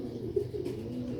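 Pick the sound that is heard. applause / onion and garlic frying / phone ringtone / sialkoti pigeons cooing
sialkoti pigeons cooing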